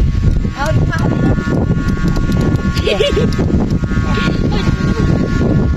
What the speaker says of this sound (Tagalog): Lakas ang hangin mga idol